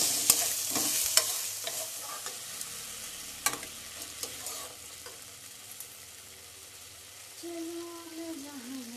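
Ginger-garlic paste and ground spices frying in oil with fried onions, stirred with repeated scraping clicks over a steady sizzle; near the end the sizzle grows louder and takes on a bubbling tone.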